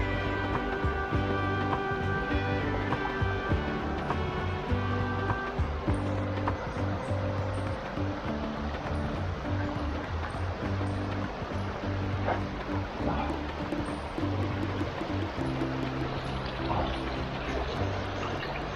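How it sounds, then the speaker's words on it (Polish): A mountain stream rushes and splashes steadily nearby, a continuous watery roar with faint sounds of other activity mixed in. "Ładny górski potok."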